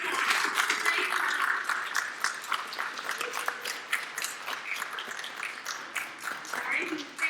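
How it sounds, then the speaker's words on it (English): At the VSDB Class of 2021 graduation ceremony, an audience gives the graduating class a round of applause. Sustained, moderately loud clapping fills the room with crisp individual claps, and voices sound over it throughout. "Let's give them a round of applause."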